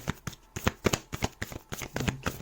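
A deck of tarot cards is shuffled and a card drawn, giving a quick close run of papery flicks and snapping taps in an uneven rhythm, with no one speaking.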